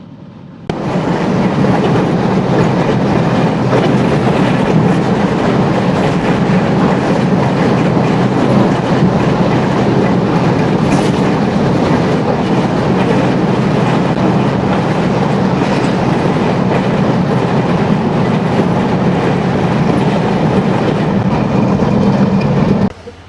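Jahanabad Express running at about 100 km/h, a loud continuous roar of wheels and rushing air with rattling clickety-clack all the way through, steady from start to finish.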